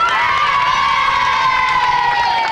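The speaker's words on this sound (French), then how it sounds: "on les applaudit très fort quand même" A French TV studio audience on a 1993 children's show, largely children, cheers and shouts loudly and continuously at close range, with sustained high-pitched whoops and only faint clapping underneath.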